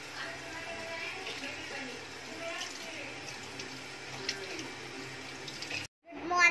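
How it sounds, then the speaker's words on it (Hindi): Water runs steadily from a tap into a sink while someone washes their face at home, a continuous close splashing hiss that cuts off near the end. "तो चलो जल्दी से मुंह धो लो।"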